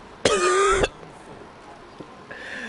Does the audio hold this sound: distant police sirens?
no